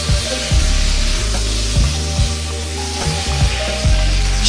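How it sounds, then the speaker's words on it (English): Vegetables stir-fried with fresh chili and sliced tomato over high heat give a steady, loud sizzle close by, with repeated scraping clatters as the pan contents are tossed and kept moving. "we're going to stir fry that around. High heat. Keep it moving."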